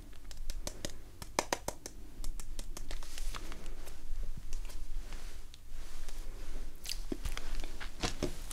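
Gum is chewed close to the microphone in a quiet room, giving a run of sharp, irregular wet clicks and snaps with faint scratchy noise between them.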